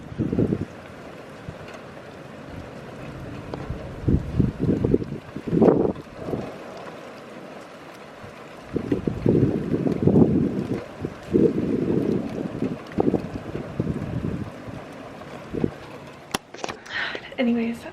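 Gusty wind rushes and buffets outdoors in uneven bursts, with low rumbling swells and a few brief knocks near the end.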